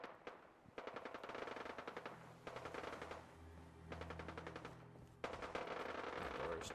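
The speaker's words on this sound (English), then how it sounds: "I can hear more gunfire." Rapid bursts of Fallout-style video game machine-gun fire rattle off in several long volleys with short pauses between, fairly distant and steady.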